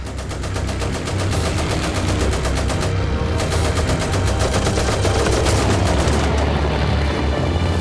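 A WWI fighter plane's machine gun firing in one loud, sustained, rapid burst that roars on without a break for several seconds.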